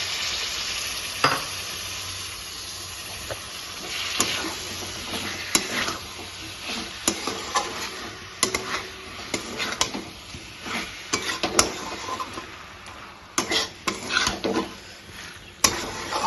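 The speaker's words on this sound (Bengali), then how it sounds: "এবার আমি এর মধ্যে মেটেগুলো দিয়ে নাড়াচাড়া করে ভালো করে কষানো" Liver pieces fry in spice masala in a pan, a continuous sizzle broken by repeated scraping clinks of a spoon stirring against the pan, close and without talking.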